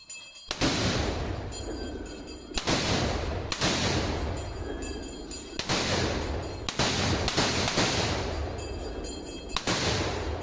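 Loud firecracker blasts go off outdoors in the Kolli Hills during a ram sacrifice feast, in a rapid, uneven barrage, sharp cracks repeating over a constant crackling roar, close and overwhelming.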